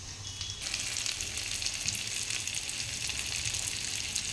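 Bottle gourd dumplings (mutke) shallow frying in oil until golden brown, a steady close crackling sizzle that swells in the first half-second and then holds constant, with no talking.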